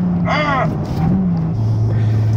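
A Honda Civic Type-R FK2 drives with a steady engine drone heard from inside the cabin, its pitch shifting slightly. Someone talks over it at close range.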